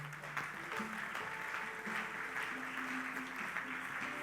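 A church congregation claps and cheers to acclaim the Lord at a worship service, a sustained wash of applause under a lively voice and music with held tones.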